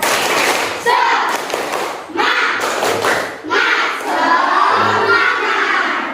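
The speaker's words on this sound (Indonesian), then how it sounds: "mari kita tepuk semangat dulu" Students in a classroom performing a rhythmic spirit clap (tepuk semangat), loud patterned group clapping in bursts with children's voices mixed in.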